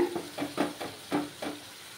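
Spices frying in oil in a pan for a coconut milk fish curry, with a series of short stirring scrapes and soft sizzles at a steady, unhurried pace, heard close and fairly quiet, with no talking.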